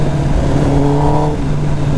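A Kawasaki ZX10R motorcycle engine revs nearby, a loud, smooth sustained engine note that rises briefly in pitch and then settles back, with no talking.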